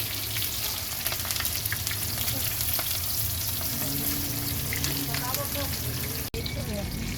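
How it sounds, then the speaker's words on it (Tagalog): Eggplant fries in hot oil in a pan, a dense continuous crackle and sizzle with occasional sharper pops, steady and fairly close. "Ayan guys, prito talong,"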